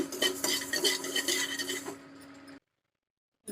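Fenugreek seeds are stirred in a hot kadai with a metal spoon, giving a busy scraping and faint sizzling rattle that fades out and then stops in silence.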